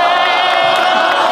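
A crowd at a freestyle rap battle semifinal shouts and roars, loud and unbroken throughout, with excited yells blending into one dense wall of noise.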